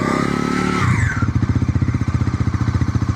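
A Bajaj Pulsar 400cc motorcycle with an underbelly exhaust, starting with a rising rev and then dropping into a close, loud, rhythmic idle burble with a steady regular pulse.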